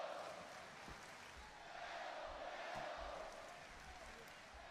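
A sellout wrestling crowd in Laredo, Texas roars steadily for Penta during a match, a dense, distant wash of cheering and shouting that swells slightly midway, with faint thuds underneath.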